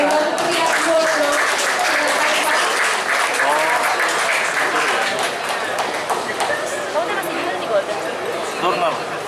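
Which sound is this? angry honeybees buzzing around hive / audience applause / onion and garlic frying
audience applause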